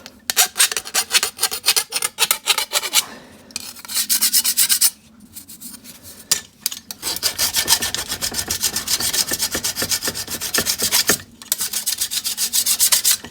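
A car exhaust manifold port being deburred with a hand file, giving harsh close rasping strokes, fast and irregular at first, then a longer run of steady scraping with a few brief pauses.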